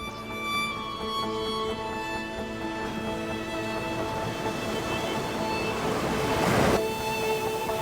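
Ocean waves wash onto a beach in the early morning, a constant rushing surf with one louder swell breaking near the end and no talking.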